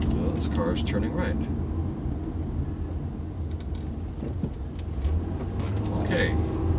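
A car rumbles steadily nearby as it drives and turns right, a low engine and road drone running under continuous talking.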